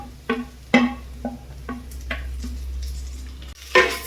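A spoon clinks and scrapes against a pan while carrot and capsicum pieces are stirred into frying onions. Several distinct taps land at an uneven rhythm over a low, continuous sizzle.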